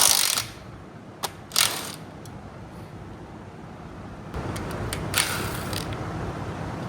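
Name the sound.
removing engine oil pump and pickup tube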